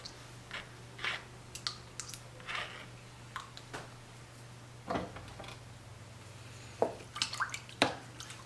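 Acrylic ink dripping and splashing onto a surface during mixed-media painting, scattered soft drips and taps irregularly spaced over a faint steady hum, close and quiet.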